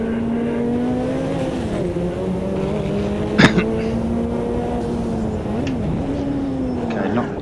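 A GTO race car in the Automobilista 2 racing game runs at full throttle with a loud, steady engine drone that dips and climbs through gear changes, with a sharp click near the middle.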